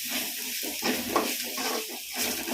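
Vegetables and soaked lentils sauté with rock salt in a pan for a home-style kootu, a steady sizzle broken by rhythmic stirring scrapes close by.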